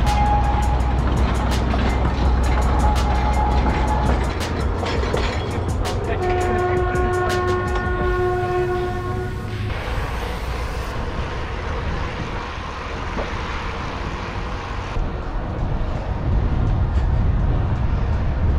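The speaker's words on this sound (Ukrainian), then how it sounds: "зараз не туристичний трамвайчик їде, а такий грузовий" A narrow-gauge freight tram train rolls past in the Carpathians near Synevyr Pass, its steady loud rumble and rail clatter filling the scene, with a sustained horn blast midway and noise fading slightly toward the end.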